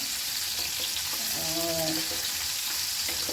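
Stuffed tinda, a round gourd, cooks in a pan with a steady, close sizzle and a soft bubbling hiss that continues without a break, while a faint voice briefly rises above it in the middle.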